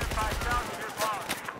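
Rapid automatic gunfire in the video game Battlefield 4, a dense burst of shots followed by a few scattered distant cracks, loud against the battlefield din.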